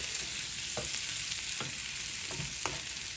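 Home-fry potatoes sizzle in melting butter on a hot grill, a steady, dense hiss with a few soft scraping stirs cutting through. Faint and close, with no voices.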